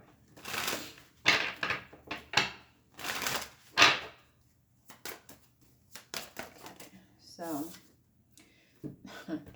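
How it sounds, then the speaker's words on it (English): A deck of Divine Time oracle cards is shuffled in several quick riffling bursts, followed by softer card handling, while a person talks throughout. "I will get 2 of these Divine Time Oracle cards for you guys"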